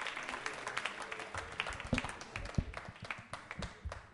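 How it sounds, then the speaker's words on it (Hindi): Small audience clapping at a Diwali music quiz show, loose uneven handclaps with a few sharper individual claps, moderately close and fairly modest in volume, no speech. "तालियां बजाइए ज्योति जी के लिए जोरदार तरीके से"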